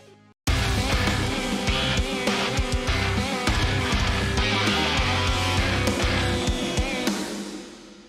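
Dense, heavy metal music with chugging distorted guitars and pounding low drums, loud and continuous, fading slightly at the end.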